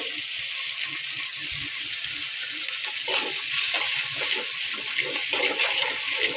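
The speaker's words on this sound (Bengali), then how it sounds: "কষানোর জন্য একটু পানি দিয়ে দিলাম," Water poured into sizzling shrimp masala with prawn paste and green chilies in a hot pan, giving a steady hiss and bubbling that rises midway, with no talk.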